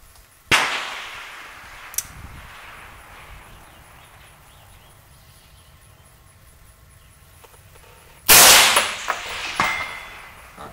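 Two sharp, distant metallic cracks of a rifle bullet striking a steel target at long range, one early and a louder one near the end with ringing tail, otherwise quiet outdoors.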